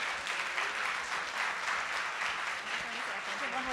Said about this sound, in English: just let's give Laurie a round of applause